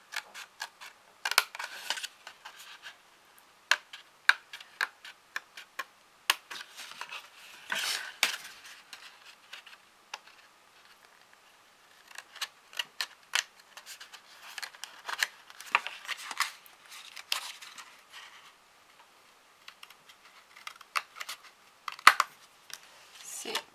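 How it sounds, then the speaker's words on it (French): Small scissors cutting paper for a handmade card, a series of faint, close snips and crisp rustles coming in irregular bursts with short pauses between. "on va y aller en douceur avec un petit ciseau"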